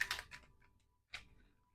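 Oracle cards riffled and shuffled by hand, giving two quick papery bursts of flicking, a brief pause, then one more short riffle, close and crisp in a quiet room.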